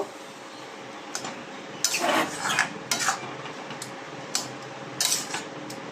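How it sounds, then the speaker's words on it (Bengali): A metal lid goes onto a pot of simmering papaya with a little water. Several close, light clanks and clatters of metal on metal come in short bursts over quiet background noise. "জল দেওয়ার পরে এটা আমি এবারে আস্তে করে ঢেকে দেবো।"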